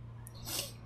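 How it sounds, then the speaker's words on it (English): A single short sneeze, close and fairly loud, bursting out over a steady low hum in a home gaming setup. "on the edge of sneezing"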